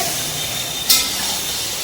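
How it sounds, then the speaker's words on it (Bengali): Mutton cooking in a pot gives a steady close hiss of steam and sizzle, with one brief, louder spurt near the middle. "এই যে কাকু এখানে মাটন রান্না করছে"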